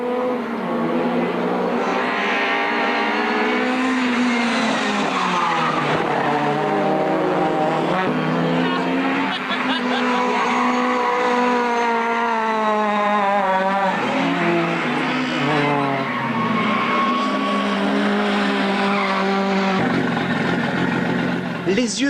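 Race cars on a circuit at a 1998 Champions Day event, engines roaring and tyres squealing through handbrake-assisted slides, with a commentator talking continuously over the loud, steady racket.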